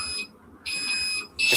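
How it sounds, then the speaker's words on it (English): Morley IAS fire alarm panel with Apollo and Nittan devices sounding its alarms: loud, shrill electronic tones cut off and restart in two pulses with brief gaps between. "bear in mind you're going to have to put the code in, so the alarms may be going for a bit"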